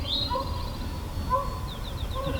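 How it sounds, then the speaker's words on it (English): Distant wild turkey gobbles echo faintly through open outdoor air, with a few high chirping birdcalls scattered over the quiet background. "I got one gobbling over here, and I got one gobbling behind me."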